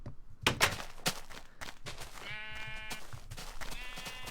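Minecraft sheep bleat twice, each a wavering digital baa heard clearly, after a run of sharp clicking game footsteps.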